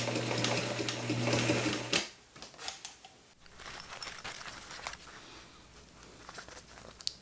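A Singer sewing machine stitches binding onto fabric, a fast steady whirring run for about two seconds. Then comes a pause, followed by scattered clicks, fabric rustles and short mechanical bursts.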